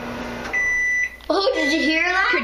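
A hot dog heating in a microwave oven gives off a steady electric hum and a brief beep. Then comes a wavering, squealing sizzle over the hum, with voices reacting nearby.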